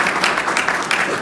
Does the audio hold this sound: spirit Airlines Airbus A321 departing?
no